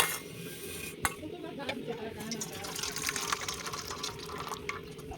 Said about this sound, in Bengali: তো এবার ছেঁকে নেব।